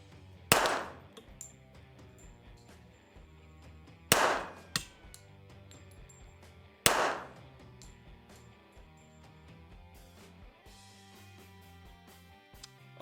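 A Ruger Precision .22 LR rifle fires at a shooting range: three separate sharp cracks spaced a few seconds apart, each ringing briefly, with quiet background between them.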